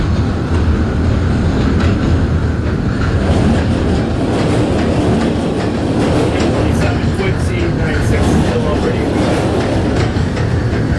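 An NYC Subway R160 train on the Q line bound for Coney Island, simulated in OpenBVE, runs with a loud, continuous rumble and rhythmic wheel clatter along the track.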